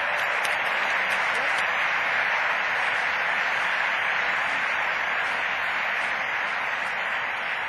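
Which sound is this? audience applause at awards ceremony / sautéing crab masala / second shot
audience applause at awards ceremony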